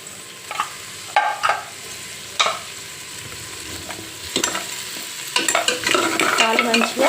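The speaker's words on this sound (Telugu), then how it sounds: "కాళ్ళు మంచిగా వేగినాయి కదా నూనెలో." Mutton trotters frying and being stirred in hot oil for paya soup, with a steady low sizzle broken by scraping stirs and clinks, growing busier near the end.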